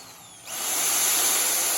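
A hammer drill, locked on at a set speed, spins up after a brief quiet moment and then runs continuously at a steady high whine, loud and close, with no one speaking.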